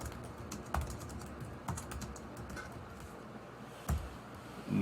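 Rapid, uneven clicking of keys on a computer keyboard, close by, with a few heavier keystrokes standing out amid the quiet tapping.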